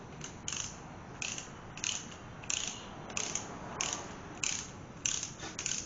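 A ratchet wrench snugs bolts on an engine in a regular series of about eight clicking bursts, close and distinct, with short pauses between strokes and no talk.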